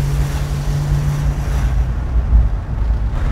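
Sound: Plymouth Superbird car being driven

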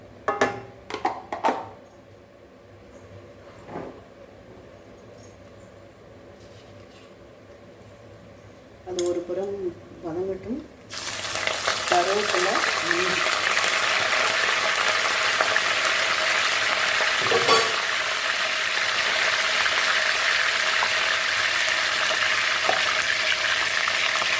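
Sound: cashews frying in ghee for pongal

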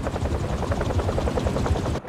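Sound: helicopter blades sound effect in Spider-Man 2 video game

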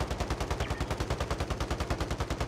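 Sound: gunfire in Call of Duty: Modern Warfare video game

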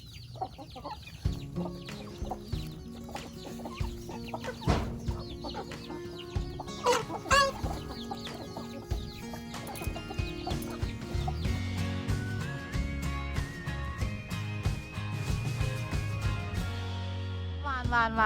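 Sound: chickens clucking while being fed rice

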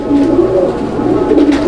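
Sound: pigeons cooing

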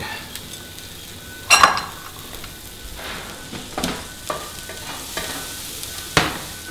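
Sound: ingredients sizzling in hot frying pan for paleo burgers

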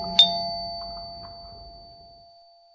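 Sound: doorbell ringing twice

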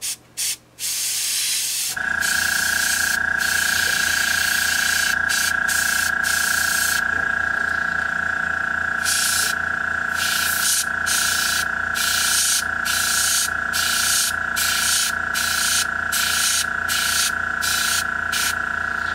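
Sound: airbrush spraying black paint on a miniature

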